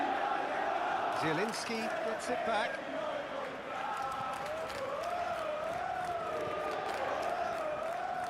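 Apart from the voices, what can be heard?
stadium crowd in video game PES 21 football match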